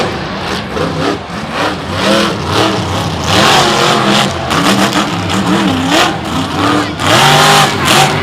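A Monster Jam monster truck in freestyle competition at Tampa revs hard through loud MagnaFlow exhaust collectors, the engine surging and falling in repeated throttle bursts, loud and close over arena noise.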